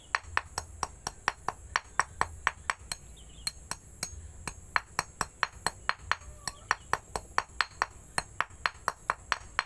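Chunks of quartz gold-ore stone are pounded into fine pieces with rapid, evenly spaced metallic strikes, dozens of bright clinking hits in a steady close rhythm throughout.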